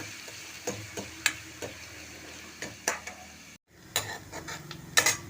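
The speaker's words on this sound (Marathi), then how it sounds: "एक कांदा टाकते आहे बारीक चिरलेला कांदा आहे व्यवस्थित परतून घेते" Finely chopped onion sautéing in a pan, with a soft sizzle under a series of scraping, stirring clicks from a spatula against the pan.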